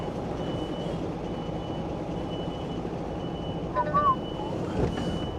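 A truck unloading from a low loader gives a brief burst of reversing beeps over a steady, loud engine rumble and outdoor noise, followed by a short hiss.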